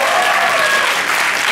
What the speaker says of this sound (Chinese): 给我们的学长姐一个掌声。